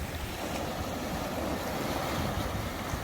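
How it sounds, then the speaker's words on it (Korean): Sea waves wash against the rocky shore at Yeongeumjeong on the Korean east coast, a steady, close, unbroken roar of surf with wind noise buffeting the microphone throughout, and no voices. "예, 파도가 좀 있네요."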